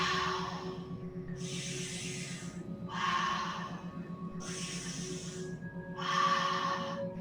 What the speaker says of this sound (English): In through the mouth, out through the mouth.